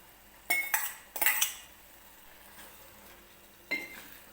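Cooked lima beans tipped into a pan: two quick bursts of metal spoon clanks and scraping against the cookware, a quiet stretch, then one more clink, close by with no talk.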